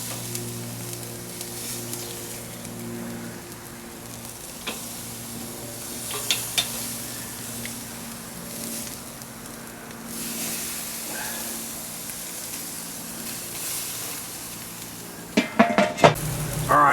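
Steaks sear in a hot pan just after being flipped, a steady low sizzle lasting throughout, with a few clinks of utensils against the pan near the end.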